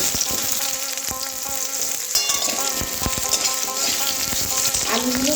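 Potatoes frying in hot oil with curry leaves, a steady close sizzle with occasional stirring scrapes and spatters throughout, no voices.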